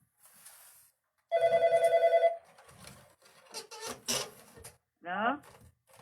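A telephone bell rings in a rapid rhythmic burst for about a second during a phone call in a Tamil drama, loud and close, followed by quiet talk and scattered clicks.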